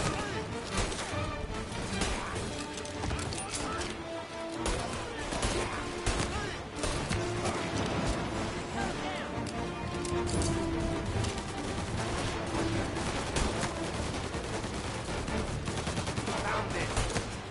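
Gunfire in Mafia Definitive Edition, dense bursts of shots crackling through a loud, busy game mix with music and voices throughout.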